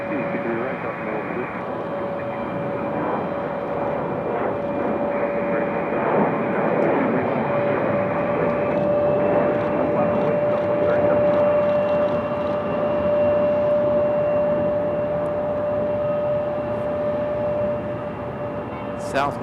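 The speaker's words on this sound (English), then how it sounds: "This is United E-170 headed to Houston." United Embraer E-170 airliner taxiing at Raleigh-Durham International Airport, a steady loud jet engine whine and roar with a sustained tonal hum, continuous for the whole stretch, with people talking faintly underneath.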